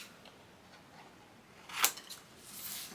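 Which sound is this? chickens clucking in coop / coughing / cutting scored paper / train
cutting scored paper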